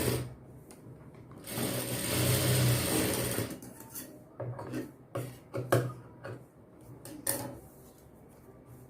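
A sewing machine stitches a blouse shoulder seam, a fast rattling run of a couple of seconds, then shorter bursts and mechanical clicks as the fabric is adjusted.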